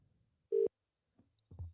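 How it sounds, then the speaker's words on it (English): A single steady telephone ringing tone sounds for a fraction of a second while a call is placed to a caller during a live football watchalong, followed by faint background rustles and a low thump. "It's ringing."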